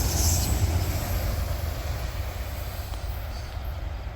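A CSX freight train rolls steadily past, its former Burlington Northern 48-foot well cars carrying blue trash containers, with a constant low rumble of wheels and cars that fades slightly over the seconds.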